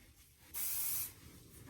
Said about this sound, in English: Little spray.